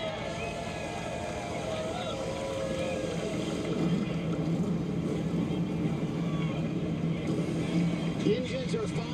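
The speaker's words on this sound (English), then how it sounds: "Engines are fired in Chicago." NASCAR stock car engines idling and revving together at a Chicago street course race, a dense steady rumble with engine tones rising and falling as several cars fire up, heard alongside a public-address voice and crowd.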